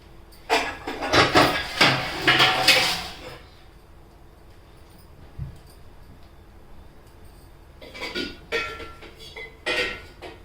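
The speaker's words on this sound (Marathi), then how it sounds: "हे पहा ताट इतकं मोठं आहे आता घासायला मला दोन तास सरळ लागते" Hand-scrubbing of a large brass plate in a home kitchen: bursts of rough, scraping friction with metallic rattles, loud and close, broken by a quiet pause before more scrubbing strokes resume.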